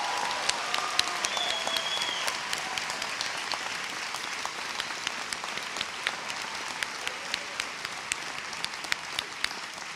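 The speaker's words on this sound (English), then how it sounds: "let's have one round of applause for them" A large audience at a university journalism school graduation ceremony applauds steadily, with dense continuous clapping for the full stretch and a few sharper claps standing out near the front.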